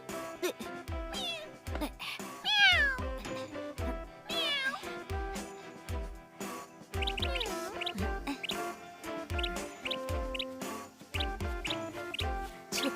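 A cat meows repeatedly, rising and falling calls scattered over steady background music with a regular low beat, the meows fairly close and clear.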